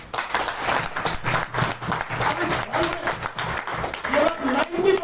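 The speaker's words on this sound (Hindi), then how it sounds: "तालियां।" An audience applauding at a talk on income plans, a sustained patter of many hands clapping at mid distance, with a voice speaking over it.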